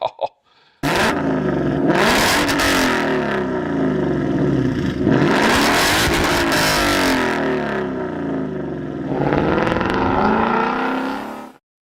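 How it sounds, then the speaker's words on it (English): A deep V8 engine roars and revs repeatedly, rising and falling in pitch with a rumbling exhaust, loud and close, then settling to idle. "as for the rumble and roar of a potent V8"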